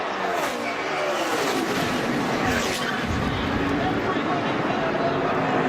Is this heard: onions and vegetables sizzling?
no